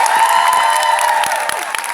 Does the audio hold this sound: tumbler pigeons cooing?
no